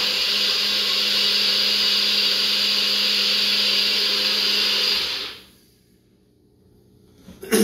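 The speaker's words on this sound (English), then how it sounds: "Then I'm going to whirl them in the blender here." A blender roars loudly and steadily for several seconds blending pineapple, then cuts off into near silence before a few small clatters.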